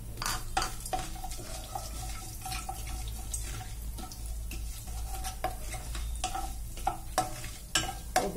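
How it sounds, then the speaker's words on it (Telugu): Tempering spices of urad dal, mustard seeds and cumin fry in hot oil for a raw papaya and fresh coconut curry, giving a steady sizzle with repeated spoon-stirring scrapes and clicks throughout, with no talking. "దినుసులు వేగుతున్నాయి"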